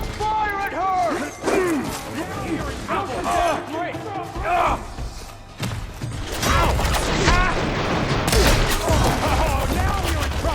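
Rapid gunfire from soldiers in Horizon Forbidden West's Burning Shores battle, crackling shots and mechanical clatter mixed with booms under loud shouted voices and music, dense throughout.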